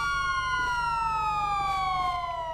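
Police siren in a roleplay video game, a loud, steady wailing tone that slowly falls in pitch, close and continuous throughout with no talk.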